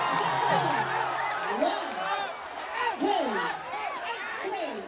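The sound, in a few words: crowd cheering at a Muay Thai fight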